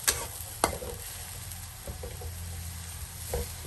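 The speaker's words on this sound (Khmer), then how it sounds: "ហើយយើងឆាជាមួយខ្ទឹមមួយត្រឡប់ពីមក" Pork stir-fried with garlic in a pan gives a steady soft sizzle, broken by a few sharp scraping clacks as the food is tossed and stirred.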